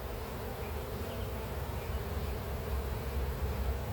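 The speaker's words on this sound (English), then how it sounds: "a lot of bees. Sounds like there's a crew down in there." A dense, steady drone of many honeybees buzzing together inside a hive, close and continuous, with no voices.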